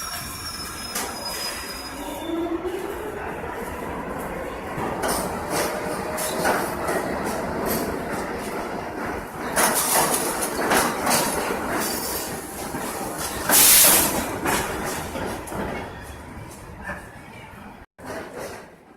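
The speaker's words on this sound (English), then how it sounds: "The R46's traction system is General Electric SCM 17kg 192 AH1, which sounds like this." An R46 New York subway car with General Electric SCM 17KG192AH1 traction motors runs along the track, a steady loud rumble of wheels and motor with rising whine, brief squeals and clatter throughout, no talking.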